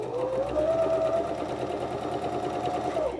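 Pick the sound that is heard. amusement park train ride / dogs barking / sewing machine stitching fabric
sewing machine stitching fabric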